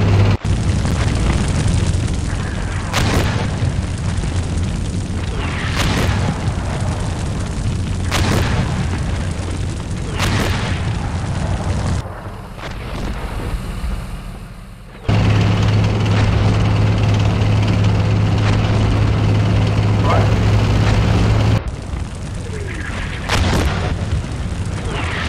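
Incoming fire in the tank simulator game Steel Beasts Pro PE: loud, sustained rumbling with sharp explosion hits every few seconds, a brief lull midway, then the heavy roar and impacts resume, with no talk over it.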